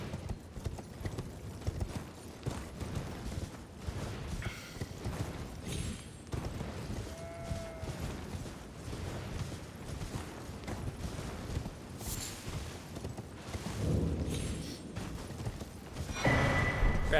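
Clip-clop hooves of a mounted knight's horse in a video game, a steady, fairly quiet trot with occasional faint game effects, heard alone.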